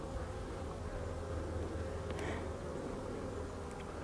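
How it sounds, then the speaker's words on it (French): Honeybees flying around a hive entrance at an apiary in February, a steady, dense buzzing drone that continues unbroken and fairly close throughout. "si on voit des abeilles rentrer sans pollen, il faut vraiment se méfier"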